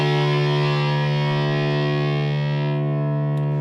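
A distorted electric guitar, a PRS-style Yoshi guitar, rings out as one long sustained chord that stays loud and steady, then slowly thins out at the top end.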